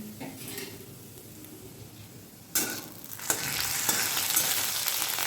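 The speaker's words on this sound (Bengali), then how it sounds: "এবার ডালটা ফোড়ন করবো" Whole cumin and dried chillies tempering in hot oil for dal: quiet kitchen clatter at first, then a sudden loud sizzle that swells into steady crackling frying, close by with no talking.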